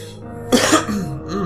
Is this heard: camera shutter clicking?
no